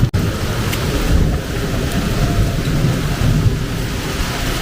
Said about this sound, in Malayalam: ഇപ്പോഴാണ് ശരിക്കും നല്ലൊരു മഴ കിട്ടുന്നത്